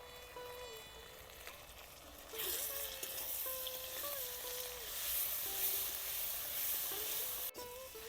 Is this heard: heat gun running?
no